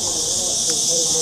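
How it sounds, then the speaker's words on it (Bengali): At dawn, dense, steady high-pitched cricket trilling fills the air continuously at an even level with faint low background noise. "ঝিঝি পোকার ডাক শুনতে পাচ্ছেন,"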